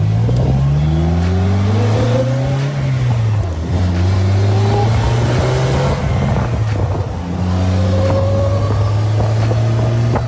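A Polaris Slingshot three-wheeler's engine revs and accelerates up through the gears, rising pitch sweeps broken by brief shift pauses, loud and close throughout with no talking.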